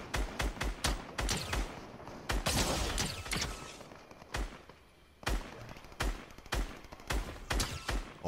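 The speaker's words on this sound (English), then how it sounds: "Who is shooting?" Rapid volleys of video game gunfire, repeated bursts and single shots close together with brief pauses between, loud and up front, with no talking.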